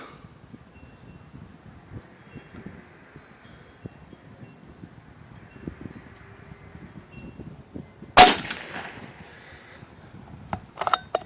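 A PCP air rifle fires outdoors, one sharp, loud crack partway through, followed later by a couple of fainter clicks, over soft wind and rustling.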